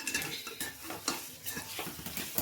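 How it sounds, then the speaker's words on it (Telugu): A spoon scrapes and clanks in a pot while marinated chicken is stirred for pulao, making repeated close metallic knocks with a faint sizzle and no talking. "ఇట్లా బాగా కలుపుకోండి మంచిగా."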